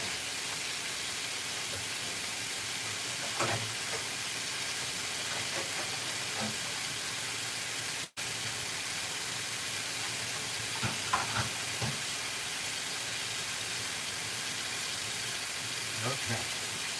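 Celery and onions fry in hot bacon grease in a pan, giving a continuous soft sizzling hiss with scattered small pops and crackles.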